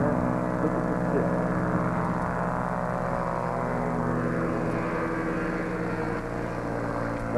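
A small propeller airplane flies low over a Michigan beach it uses as a runway, its engine drone loud and steady throughout with no talking.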